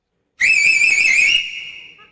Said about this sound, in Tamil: இன்னொரு தடவை நீங்க விசில் எனக்கு ரொம்ப பிடிச்சிருக்கு அந்த விசில்.